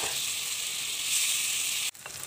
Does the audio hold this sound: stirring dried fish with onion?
yes